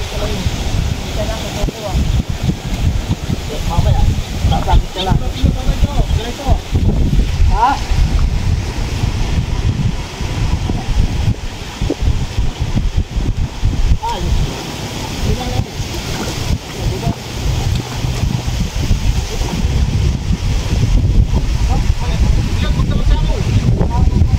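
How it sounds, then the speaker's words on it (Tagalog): Strong wind buffets the microphone on a fishing boat at sea, loud and gusty over sloshing water, with voices talking intermittently beneath the roar. "Lakas ng hangin."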